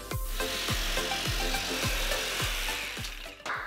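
A strip of laminate flooring being cut with a hand saw, steady rhythmic back-and-forth strokes about twice a second, close and loud, with no talking.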